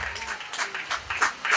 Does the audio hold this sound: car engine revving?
no